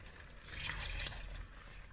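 Water poured into a pan of cooking chicken and bacon risotto, a soft, quiet trickle and splash swelling briefly in the middle, heard alone without talk.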